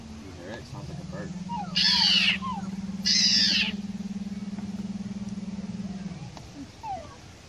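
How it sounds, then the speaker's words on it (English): An owl hoots in one long, steady low note lasting about five seconds, with two brief bursts of higher chirping from other birds partway through and a faint call near the end. "It sounds like a bird."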